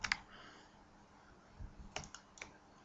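Several sharp clicks, one near the start and a few spaced toward the end, faint and close over quiet room noise, from a computer mouse being clicked during 3D vertex editing.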